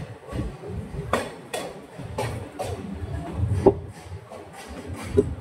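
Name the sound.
passenger train running at speed on the tracks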